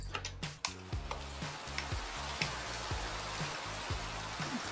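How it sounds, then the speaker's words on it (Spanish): Rain falls in Minecraft with shaders as a steady hiss of soft patter, joined by a repeating, rhythmic low ticking and tapping, fairly quiet and without talk. "Vamos a poner la lluvia para ver cómo se ve."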